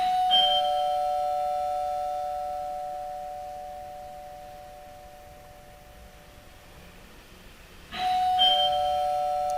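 A Home Assistant gate doorbell set off by a PIR motion sensor plays a clear electronic chime. The first tone rings out and slowly fades over several seconds, then a second chime starts near the end.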